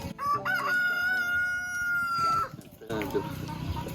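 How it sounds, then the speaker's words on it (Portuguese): A rooster crows on a rural farm, one long loud drawn-out call close by, followed by softer clucking and farmyard noise, with no talking. "Onde vocês vão ouvir aí galinha cantando."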